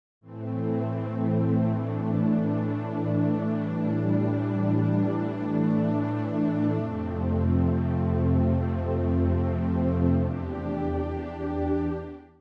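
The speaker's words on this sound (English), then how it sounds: "The other one is a pad, a little bit more on the analog spectrum of sounds" A warm analog-style synth pad preset from Omnisphere sustains a smooth, rich chord, shifting to a lower chord about halfway through before fading out, with no voices.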